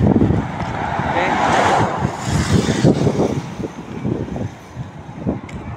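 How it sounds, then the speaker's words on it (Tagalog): A slow truck rolls along the road on San Juanico Bridge, a loud broad rumble of engine and tires mixed with gusty wind buffeting the microphone. The roar rises and falls over several seconds, heard close. "Moving on road, slow truck."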